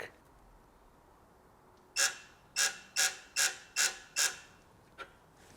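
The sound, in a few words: electric torque wrench tightening bolt on BMW 850i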